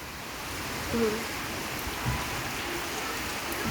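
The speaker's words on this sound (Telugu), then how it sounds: "చాలా హెవీ రెయిన్ పడుతుంది" A dense, steady wash of rain pours down continuously, even and enveloping, with faint voices in the background.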